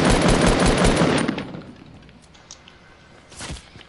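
A loud burst of rapid automatic gunfire in a shooting video game, dense shots for about a second, then a quieter tail with a single later shot.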